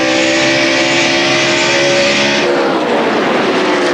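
Race cars in the Busch Series at Dover in 2003, their engines a loud sustained roar with layered high whines, one pitch dropping away as the field passes by.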